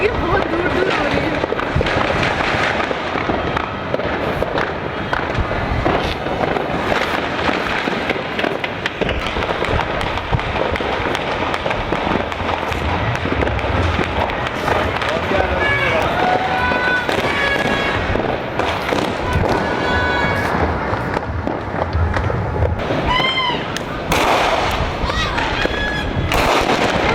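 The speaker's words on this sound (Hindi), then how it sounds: "तो खैर चारों तरफ फायरवर्क्स हो रहे थे" Fireworks and firecrackers go off on all sides during Independence Day celebrations, with a dense, nonstop barrage of crackling pops, sharp bangs and whistling bursts at varying distances. Voices can be heard now and then beneath the noise.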